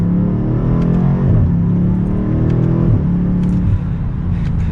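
A 2022 BMW M8 Competition Coupe accelerates mildly, its engine note climbing smoothly through the gears as a loud, close, continuous drone heard from inside the car.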